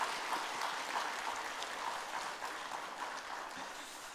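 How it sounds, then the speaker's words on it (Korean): A church congregation applauds in a steady, dense wash of clapping from many hands, sustained at an even level throughout, with no voices over it. "우리 함께 박수로 다시 한 번 더 축복하겠습니다"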